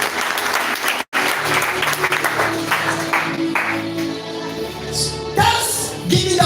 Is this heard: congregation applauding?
yes